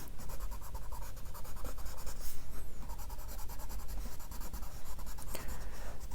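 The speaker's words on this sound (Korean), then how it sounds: "땅 위주로 초록색들을 조금 칠해 볼게요." Steady, continuous scratching of green colored pencils shading a drawing on paper, close and fairly loud, with a constant rough scraping texture and no pauses or voices.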